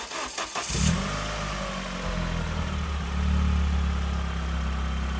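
An Opel Astra GSi engine (Z20LET) cranks and catches at the start after restoration, then settles into a steady, loud rumble with a slight rev partway through, close by.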